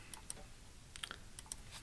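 Someone types on a computer keyboard while editing code in Notepad++, the faint keystrokes landing in small irregular clusters against a quiet room background.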